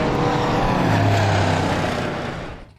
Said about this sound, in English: and car 97 will head trackside